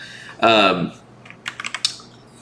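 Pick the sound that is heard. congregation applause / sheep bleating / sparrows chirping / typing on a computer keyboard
typing on a computer keyboard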